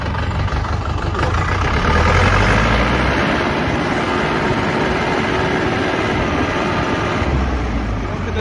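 A DW 504 SDX tractor's diesel engine idles steadily, a loud, continuous low rumble with a constant, unchanging drone from start to finish and no speech.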